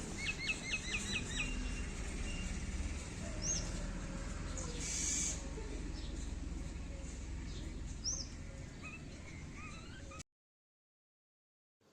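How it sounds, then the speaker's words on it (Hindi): Birds call and chirp through a calm village morning, with repeated short whistles and tweets near and far over a soft steady outdoor hum, ending abruptly in silence. "आवाजें आ रही है तो बस पक्षियों की आवाजें, जो कानों को बहुत ही सुंदर लगती है।"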